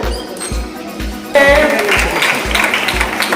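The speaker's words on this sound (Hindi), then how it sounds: "जोरदार ताली बजाइए।" Applause breaks out at a school prize-giving ceremony in Katihar, India, as a crowd of hands claps loudly and steadily after an opening stretch of amplified announcing, with a rhythmic low thumping running beneath throughout.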